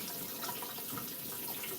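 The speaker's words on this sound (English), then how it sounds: "we're going to fill this cup up with some water" Tap water pouring into a mug, a steady close splashing stream for the full two seconds, no voices.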